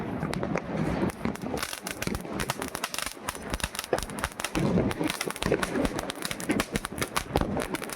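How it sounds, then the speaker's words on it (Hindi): Firecrackers including bidi bombs burst during a Diwali celebration, a dense run of sharp cracks and pops crackling continuously at close range, loud and irregular. "अभी हम पटाखे फोड़ेंगे"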